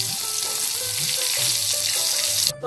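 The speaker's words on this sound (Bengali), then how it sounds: "পটল ভাজাতে দিয়ে দিব। তেলটাতে দিয়ে দিব পাঁচফোড়ন।" Pointed gourd and panch phoron frying in oil, a loud continuous hissing sizzle with a rushing watery texture, close up, no speech, ending in a brief clatter.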